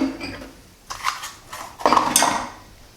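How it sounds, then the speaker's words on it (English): Dishes clatter and clink as they are shifted aside on a kitchen counter while a coconut cream pie is being made. The knocks come in a few separate bursts, close and moderately loud, with no talking. "I'm going to move some of these dishes out of the way"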